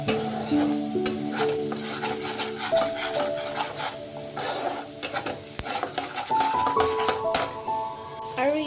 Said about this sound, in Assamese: আৰু ইয়াত মছলাখিনি ভাজিলোঁ